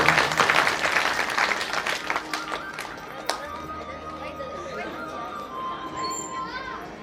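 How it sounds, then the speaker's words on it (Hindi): Audience at a Shrimad Bhagavat Katha gathering claps in a brief burst that fades over a few seconds, followed by background crowd murmur and a voice speaking. "सब भाई बहन ताली से सेवा करें।"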